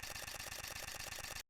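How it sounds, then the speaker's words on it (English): A Canon R5 mirrorless camera fires its shutter in a rapid burst of evenly spaced clicks, close and steady for about a second and a half before stopping abruptly. "Even the sound of the shutter sounds great."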